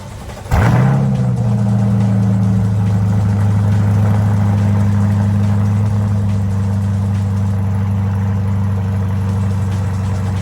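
A C8 Corvette fires up from a cold start with a sharp, loud crank-and-catch burst, then settles into a high, steady, droning idle with a strong low exhaust note that holds for the rest of the clip.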